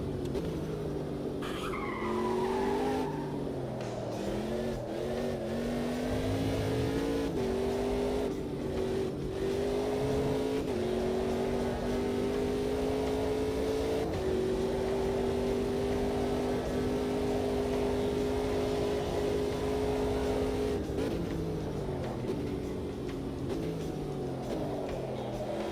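In a racing video game, a race car's tyres skid and squeal continuously as they are warmed up, with the engine revving and droning underneath throughout.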